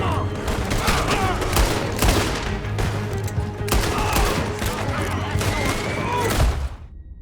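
Sustained gunfire in Red Dead Redemption 2 crackles as a chaotic firefight, with many overlapping shots and thuds at steady loudness until it cuts off abruptly near the end, and shouting voices mix in.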